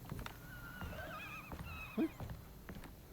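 A horse whinnies in the video game Alone in the Dark, a wavering neigh in two bursts against faint ambient background and a few soft thuds, with no talking.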